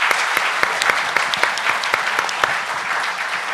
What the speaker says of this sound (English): So we'll give a round of applause to the panel.